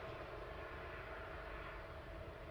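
A jet airliner taxiing at East Midlands Airport at night, heard as a steady, distant engine rumble and whine that holds evenly throughout with no voices.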